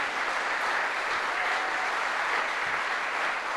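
Audience at a district attorney candidates debate applauds, a steady dense wash of clapping that fills the whole moment at an even level with no voices on top.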